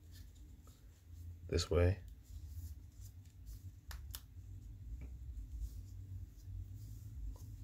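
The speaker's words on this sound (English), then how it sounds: "you're gonna bring that to the bottom. So you're just gonna fold it in half" A sheet of paper folded in half while making an origami dragon, with one sharp rustling crease close by followed by light paper taps, while a person talks.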